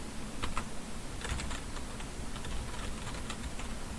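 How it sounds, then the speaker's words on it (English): Steady run of computer keyboard keystrokes tapped at an even pace, close and fairly quiet over a constant low hum, with no talking. "as I type"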